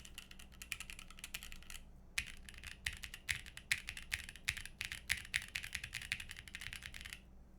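Fast typing on a custom 75% 7V mechanical keyboard with clicky switches. Dense, crisp keystrokes come close and clear, break for a brief pause, then resume in a rapid, steady flurry.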